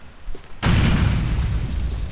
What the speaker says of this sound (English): take one of these grenades and put it through their window